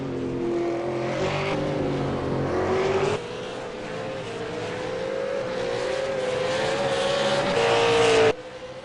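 A V8 race car pulls away at Oulton Park. Its engine drones loudly and continuously, the pitch climbing steadily as it accelerates through the gears, and tyre noise sounds in the background.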